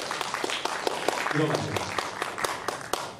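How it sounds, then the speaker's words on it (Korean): A church congregation at a Sunday thanksgiving service claps in response to the pastor, with distinct, slightly uneven hand claps running through the whole moment while a voice speaks briefly over them. "우리 박수 좀 쳐주세요"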